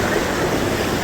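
Strong current of floodwater rushing past, a dense, loud, continuous roar that fills the whole brief moment without pause.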